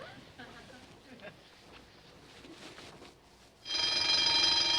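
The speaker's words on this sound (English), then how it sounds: "That's the burglar alarm." A store's burglar alarm suddenly starts ringing, a loud continuous electric bell that sets in near the end after a stretch of quieter background sound with faint voices.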